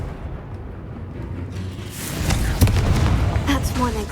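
A Confringo fire spell explodes in the video game Hogwarts Legacy, a broad booming blast that swells in and rumbles on with crackling bursts over a loud game soundscape.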